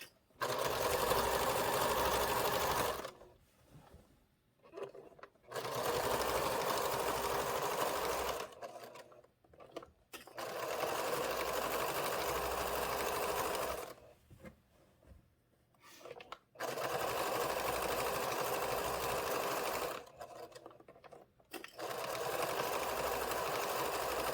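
A sewing machine stitches a wrap-around quilt binding in long, steady bursts of rapid mechanical whirring, stopping briefly between runs before starting again, close and loud.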